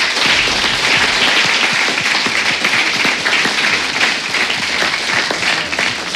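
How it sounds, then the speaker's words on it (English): Loud, sustained applause from a live event audience celebrating the tournament champions of a Total War: ARENA alpha final battle, a dense steady wash of clapping with faint cheering, running unbroken throughout. "round of applause for our 20 champions"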